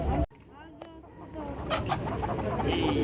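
A rooster and chickens cluck at a poultry market in Kyzylorda, short fowl calls near and far mixed with a busy crowd and people talking over them.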